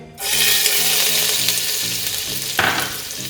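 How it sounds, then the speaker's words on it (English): Chopped garlic hits hot oil with a loud, steady sizzle that starts abruptly and holds throughout, with a brief burst of spatter or stirring near the end as chilli garlic vegetable noodles are cooked. "Now the oil is heated. We'll add the chopped garlic to it."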